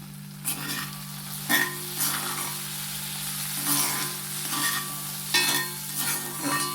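Prawns fry in a pan on a low flame while being stirred, a steady hiss of oil broken by repeated scraping strokes of the spatula, close and fairly loud, accompanied by a continuous low hum.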